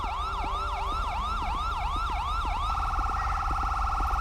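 A video game police siren wails in a steady rising-and-falling pattern, then switches to a faster warbling yelp, loud and close with an engine hum underneath.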